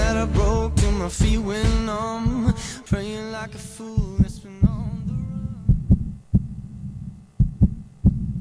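A song plays with melodic, sung-like tones, then thins out to a beat built from children's heartbeats: soft, deep thumps in an uneven pulse.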